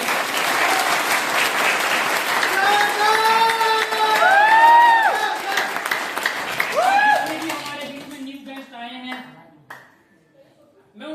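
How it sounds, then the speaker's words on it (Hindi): Warm applause from an indoor audience of old members welcoming a few newcomers at a meeting, steady clapping for about eight seconds with voices calling over it, then fading into scattered claps and quiet. "हम पुराने साथियों से इनका उत्साह वर्धन के लिए तालियां करेंगे"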